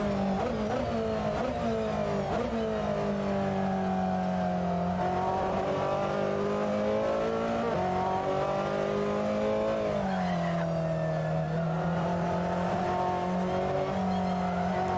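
Ferrari 488 GTLM race car engine at the Mugello circuit in Assetto Corsa, loud and continuous, its pitch rising and dropping through gear changes with occasional tire squeal.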